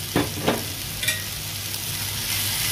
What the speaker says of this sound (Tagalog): Haluin para ma-mix ng maayos.